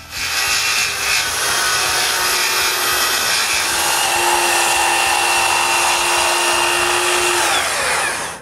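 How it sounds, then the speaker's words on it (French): Power sander working over wooden braces inside a new workshop under construction, a loud continuous abrasive whir with a steady motor tone, running close and unbroken for the whole stretch. "elle sable tous les bras de force à l'intérieur"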